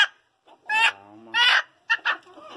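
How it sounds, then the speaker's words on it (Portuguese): A Japanese silkie hen gives a few loud, close clucks and drawn-out squawking calls in separate bursts with quiet gaps between them. "Uma galinha também."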